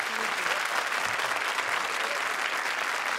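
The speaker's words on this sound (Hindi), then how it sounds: "जोरदार तालियां एक बार फिर" Steady, dense applause from a crowd fills the whole stretch, loud and continuous without a break.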